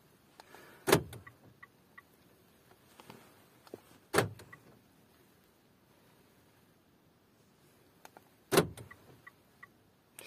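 Three car doors on a Mitsubishi ASX slam shut one after another, each a sharp, solid thud with a brief rattle, separated by a few seconds of quiet interior calm.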